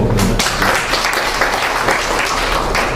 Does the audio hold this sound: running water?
no